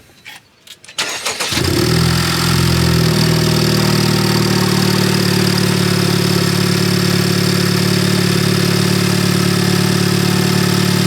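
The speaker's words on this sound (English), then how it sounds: "we're gonna give it a first startup, let it idle for a couple minutes to let the ECU relearn everything" A Honda Civic Type R FK8 fitted with a Gruppe M intake cranks, fires up and settles into a loud, steady idle with a constant low drone that carries on unbroken for about nine seconds, with nobody talking.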